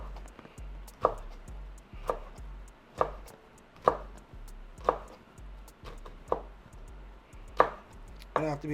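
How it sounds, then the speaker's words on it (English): A knife chops a seeded pepper on a cutting board in a home kitchen, with about nine distinct, evenly spaced chops, close and crisp, and no talking. "start slicing, chopping this thing up."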